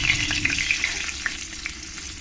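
Fried potatoes come out of hot oil into a bowl while the oil keeps up a steady, close sizzle with a few light clinks and scrapes.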